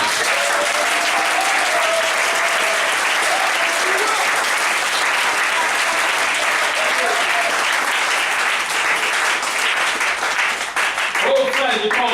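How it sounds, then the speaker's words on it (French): A church congregation applauds for the Lord, and loud, dense clapping fills the hall without a break, with voices cheering in the crowd. "Une main d'acclamation pour le Seigneur."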